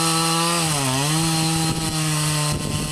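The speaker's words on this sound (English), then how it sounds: "with a chainsaw I rough out large blocks" A chainsaw roughs out large blocks from a big wood root, its engine roaring loud and close with a brief dip and recovery in pitch before holding a steady whine.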